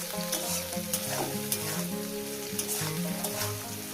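Amla mash with coriander leaves fries in a pan and is stirred, a steady sizzle with scraping strokes of the spatula at a regular pace, alongside a tonal hum in the background.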